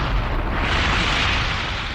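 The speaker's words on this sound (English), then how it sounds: "This film of a military test shows what happens during an explosion." A bomb explosion in a military test, a loud sustained roaring blast that fills the whole two seconds with dense low rumble and broad hiss, without any voices.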